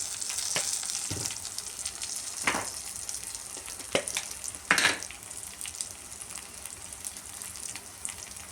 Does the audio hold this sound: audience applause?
no